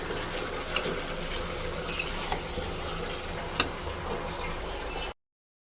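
Chicken and potatoes being stir-fried in a pan for a home-style chicken curry, giving a steady close sizzle with a few sharp clicks of a spoon scraping the pan, and no talking.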